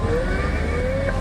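A CAT 320 excavator engine in Farming Simulator 19 revs up briefly with a smooth rising tone, close and steady, with no voices.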